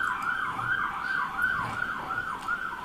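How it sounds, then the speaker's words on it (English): An emergency siren wails in a repeating rising and falling cycle, fairly faint and distant, steady throughout with no talk over it. "another siren"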